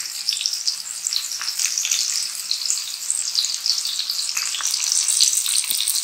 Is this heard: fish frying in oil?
yes